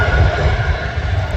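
Airbus A330 airliner at Manchester Airport, a steady loud jet engine roar with deep low rumble held throughout, no voices.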